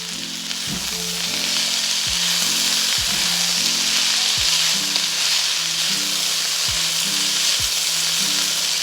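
Yellow and green capsicum fry in a fried rice pan, a loud, steady sizzle punctuated by regular knocks and scrapes of a spatula stirring, close up with no voices.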